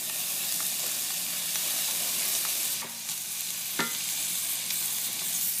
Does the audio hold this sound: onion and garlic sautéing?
yes